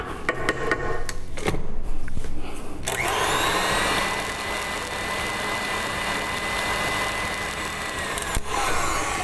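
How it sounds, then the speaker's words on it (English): A KitchenAid stand mixer whirs at a steady high-pitched motor drone while mixing raspberry cream pie filling, after a few clattering scraping knocks at the start. "when you're using a KitchenAid, you need to scrape it in between to get everything mixed in."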